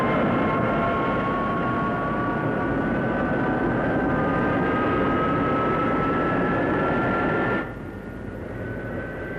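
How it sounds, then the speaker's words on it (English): A Messerschmitt 262 jet fighter flying, a loud sustained engine roar with a steady high whine that slowly rises, then drops off abruptly near the end. "This is the Messerschmitt 262,"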